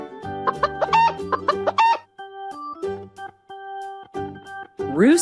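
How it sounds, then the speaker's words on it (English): A domestic chicken clucks in a quick run of close, loud calls, then a few spaced clucks, ending with a rising squawk-like call. "Chicken."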